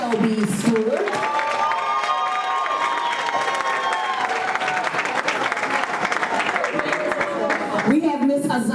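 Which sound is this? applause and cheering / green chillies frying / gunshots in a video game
applause and cheering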